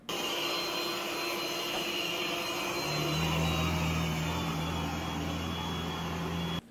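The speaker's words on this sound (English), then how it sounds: "it will actually slow the vacuum motor down to max when it gets on carpet and the back to max plus when on hard floors" A Yeedi Vac Station robot vacuum runs with a steady whirring motor hum, close and continuous, and its pitch shifts partway through as the suction power level changes.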